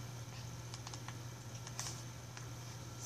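Fingers tap out text messages on a phone, making a scattering of faint, quick clicks over a low background hum, heard up close with no speech.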